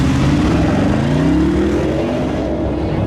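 A 2015 BMW X6 V8 engine revved at standstill, its deep, loud note climbing and then easing back as the throttle is pressed and released, heard close and alone.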